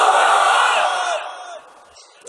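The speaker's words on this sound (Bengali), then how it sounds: "তাকবীর পড়েন, লিল্লাহি তাকবীর।" A large audience at an Islamic religious lecture chants takbir together in a loud, sustained roar that swells at once and then fades away over about two seconds.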